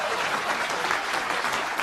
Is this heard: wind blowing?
no